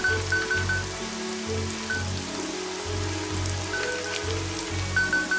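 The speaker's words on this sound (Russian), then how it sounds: "Ну, дождь, да, дождь сильно херячит." Heavy rain falls in the video game Evoland 2 as a steady, dense patter on surfaces, heard alone with no talking, with faint game music notes underneath.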